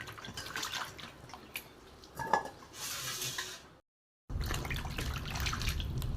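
Peeled bottle gourd is rinsed in water, with splashing and sloshing, light knocks against a vessel, and a brief silent gap before the washing sounds resume.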